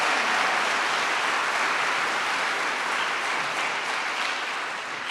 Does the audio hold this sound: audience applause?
yes